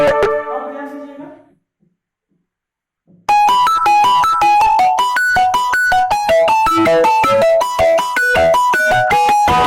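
A phone ringtone plays during a Class 10 physics lesson: a brief melodic tone fades into a short silence, then a loud, steady run of bright repeating electronic notes continues to the end.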